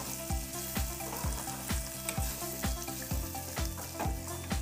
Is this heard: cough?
no